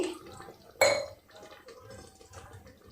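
Water is poured into a pot of Sindhi-style ridge gourd and potato curry, a brief splash and clink of the vessel followed by faint dripping and kitchen noise, softly in the background.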